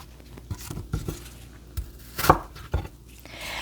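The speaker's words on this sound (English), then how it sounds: "I am not chopping these apples too small" A knife chops through apples on a cutting board, a series of irregular close thuds and crunches with no talking.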